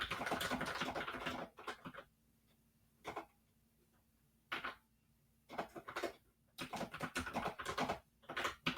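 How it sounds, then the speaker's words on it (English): Keys on a computer keyboard clatter in several quick bursts separated by short pauses, close and fairly clear against a faint steady hum. "What are you doing over there typing away?"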